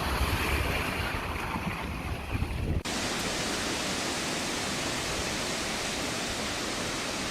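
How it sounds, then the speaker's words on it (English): Strong wind roaring through trees, a loud broadband rushing that holds steady with a sudden shift partway through, close and continuous with no voices. "The wind really picked up."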